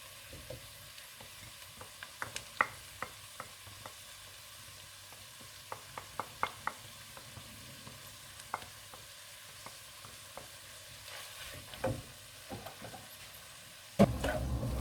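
Pilau sizzles softly in a pot over a gas flame while a spoon stirs it, scraping and tapping in scattered irregular clicks, with one louder knock near the end.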